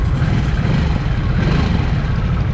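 Steady low exhaust rumble from a 2023 Harley-Davidson Nightster Special on the move, a constant engine drone mixed with rushing wind, close and unbroken throughout.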